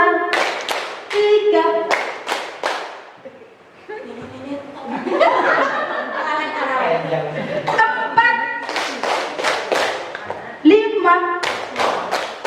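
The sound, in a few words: rhythmic hand clapping in a classroom clapping game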